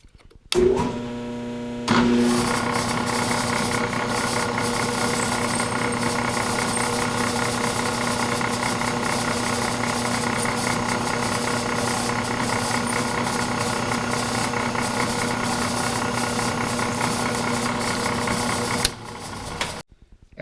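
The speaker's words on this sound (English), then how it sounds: "Now we're going to drill 1/8 inch hole all the way through" A steady, loud mechanical whine runs for nearly twenty seconds, starting and stopping abruptly, as a power drill bores a 1/8 inch hole through metal.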